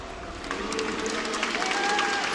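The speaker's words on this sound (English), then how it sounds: "Let's have a round of applause for CLG." A crowd at a gaming tournament applauds team CLG, with moderate, fairly distant clapping that builds slightly and continues steadily over a low hall hum.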